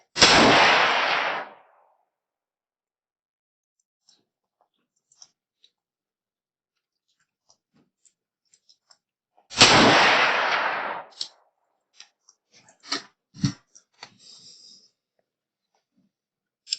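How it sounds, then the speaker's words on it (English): Two rifle shots ring out several seconds apart while a thermal scope is tested, each a loud sharp blast with a decaying tail, followed by faint clicks and handling noises in between. "You shoot 2 more just for fun."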